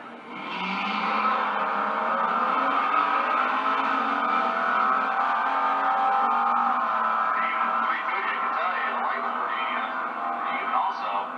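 1957 Chevy drag car with a 454 tunnel ram engine revving at the strip, a loud sustained engine roar with rising and shifting tone, under an announcer's continuous talk.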